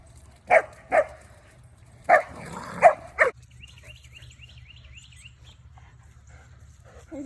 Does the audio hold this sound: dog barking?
yes